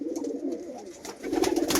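Domestic pigeons, including racing birds kept in a loft, cooing in soft repeated low throaty phrases, growing fuller and louder toward the end.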